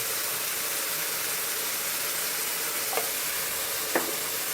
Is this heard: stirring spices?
yes